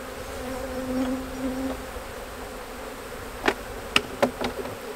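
Bees from an aggressive nuc hive in spring buzz steadily around it, a continuous insect drone with one bee's pitch briefly rising close by, followed by several sharp tapping knocks near the end.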